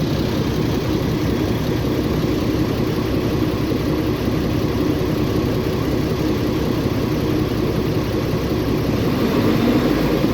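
A steady engine idles at roughly 1100 to 1200 RPM, a continuous low, even rumble heard alone and fairly loud throughout while an isotope trailer is being offloaded.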